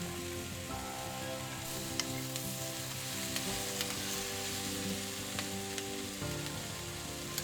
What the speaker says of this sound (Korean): 그리고 양배추, 당근을 넣고 같이 볶아주세요